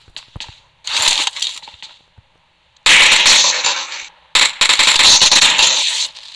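Gunfire in the battle royale game PUBG, heard as loud bursts of rapid automatic shots in several clusters separated by short gaps, with brief clicks between them.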